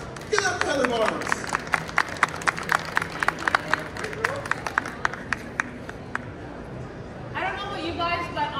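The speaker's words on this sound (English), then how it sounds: "please give a warm round of applause" Scattered claps ring out over a noisy room at a talk in Winnipeg, sharp individual hand claps with voices and movement around them, then murmuring chatter takes over.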